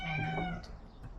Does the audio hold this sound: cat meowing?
yes